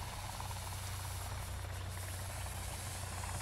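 A helicopter in Sons Of The Forest drones continuously with a low, even rotor thrum and a broad hiss, close and unchanging for the whole stretch.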